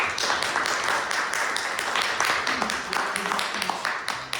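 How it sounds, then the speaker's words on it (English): A roomful of people at a Toastmasters public speaking meeting in Cluj applaud steadily as a speaker is welcomed to the stage, dense clapping holding at an even level throughout with faint voices underneath. "I'd like you to welcome with a huge round of applause to the stage, George Blaga"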